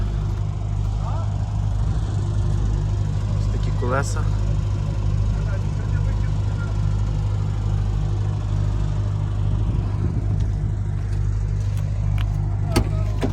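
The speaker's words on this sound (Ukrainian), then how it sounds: "Зараз заведемо мотор." A 2010 Opel Astra H petrol engine runs steadily, a low, constant idle rumble through the whole stretch, with someone talking over it and brief clicks and rattles in between.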